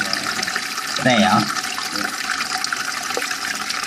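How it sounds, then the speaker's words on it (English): Water dribbles from a bath overflow during a plumbing fault, a steady faint trickle that continues throughout, briefly interrupted by a spoken word. "you've got water coming out. Right, yeah. That overflow on the bath there. And as you can see it dribbling down here"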